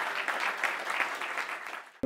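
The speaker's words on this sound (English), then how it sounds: "I think a round of applause." A guest is welcomed with audience applause at a British Library talk, a moderate, steady clapping that fades out toward the end before a brief sharp noise.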